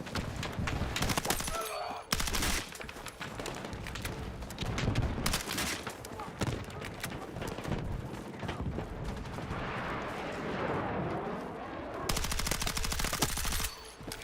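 Rapid automatic gunfire from the video game Battlefield 6 rattles in dense bursts, with sharp cracks and brief pauses, loud and close, mixed with mechanical clatter and distant shots.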